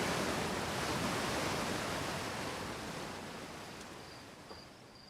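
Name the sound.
waterfall in video game Outer Wilds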